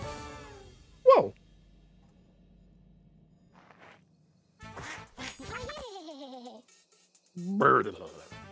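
Cartoonish sheep bleat in the game Ultimate Chicken Horse, a short nasal call near the end after other game sounds and a brief voice, with a few quiet blips and a rising tone between.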